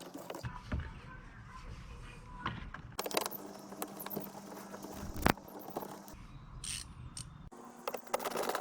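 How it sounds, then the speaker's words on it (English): Bolt being removed by hand from a Tesla's wheel-arch area while fitting mud flaps, with scattered close metallic ratcheting clicks and clinks of tool and fastener, plus one sharp knock midway, in a quiet garage. "So I'm going to take this bolt off here"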